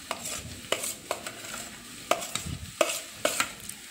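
Turmeric, salt and coriander powder are stirred in a pan for aloo paratha filling, a spoon scraping and tapping the metal in quick irregular strokes over a soft sizzle, close up and without speech.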